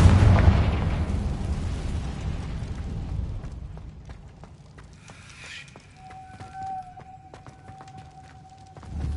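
A loud booming Confringo blast spell in a Harry Potter video game, a heavy explosion at the start that rumbles and fades over several seconds, followed by softer game effects and a sustained tonal hum.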